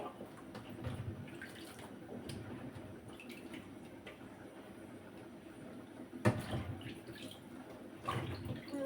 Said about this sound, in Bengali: লাউটা ধুয়ে নিচ্ছিলাম